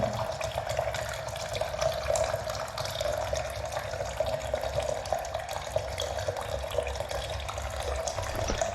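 Water runs steadily from a home water filter, a continuous close splashing and trickling stream with no voices.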